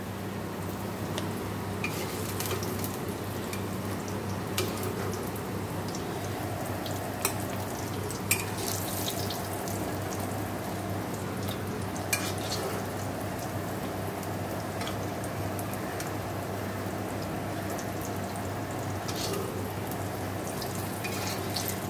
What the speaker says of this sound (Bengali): এখানে দেখো পনির ভাজা হচ্ছে, নুন হলুদ মাখিয়ে পনিরটা ভাজা হচ্ছে